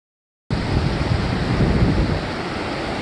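Steady broadband roar of ocean surf breaking on a warm Gulf beach at night, about five hours' drive from Waco, starting abruptly after a brief silence and holding loud and continuous, with no talking.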